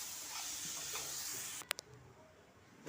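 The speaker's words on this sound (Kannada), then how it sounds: "ಟೊಮೊಟೊ ಹಾಕಿದ್ಮೇಲೆ ಸ್ವಲ್ಪ ಉಪ್ಪು ಹಾಕ್ಬಿಟ್ಟು ಚೆನ್ನಾಗಿ ಫ್ರೈ ಮಾಡಬೇಕು" Tomatoes frying with curry leaves and salt in a pan, a faint steady sizzle and hiss that fades partway through, followed by a couple of sharp, brief clicks close by.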